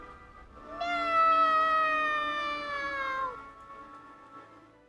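A single long, drawn-out cat meow in a video game, clear and fairly loud, rising and then falling over about two and a half seconds against a quiet background.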